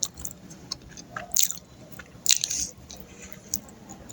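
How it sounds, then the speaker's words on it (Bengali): Close, quiet chewing of bread with a bitter fruit, with a few crisp bites and soft wet squishes spaced over a low background hiss. "রুটি আর এটা খাইতেছি"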